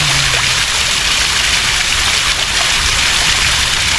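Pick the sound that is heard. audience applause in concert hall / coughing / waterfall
waterfall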